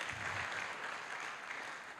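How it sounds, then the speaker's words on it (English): Applause from the audience at a developer summit, a steady, fairly quiet wash of clapping that holds evenly for about two seconds and thins slightly toward the end. "You can clap. It's good to clap."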